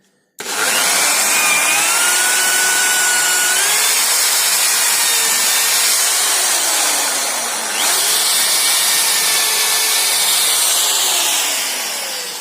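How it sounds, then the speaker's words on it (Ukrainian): A power drill with a shorter, larger-diameter bit enlarges an existing hole, whining loudly and continuously up close, its pitch sagging and rising as the bit bites, with a brief dip midway. "далі беремо коротше сверло, але більшого діаметра. І розсверлюємо."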